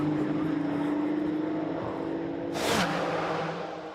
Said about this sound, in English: love that sound. As the cars run past.